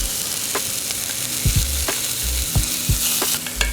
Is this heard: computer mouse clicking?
no